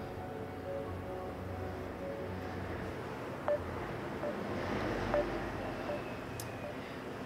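A phone dials a call with a short series of faint tone beeps spaced across a few seconds, sitting under a steady rumble of background noise.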